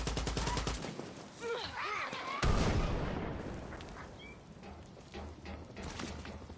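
In Far Cry 6, a grenade blast lands as a sudden broadband boom midway, followed by scattered, fainter gunshots in the distance, with a voice talking over the quiet game sounds.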